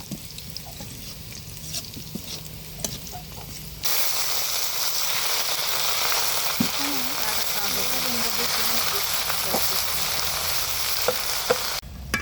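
Red amaranth greens fry in a pan over a clay stove, giving a steady close sizzling hiss that swells louder partway through, with faint stirring and low background talk.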